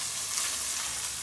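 Onions sizzling steadily in a hot pan for Hungarian cooking, a dense continuous frying hiss with no talk, close and even in level throughout.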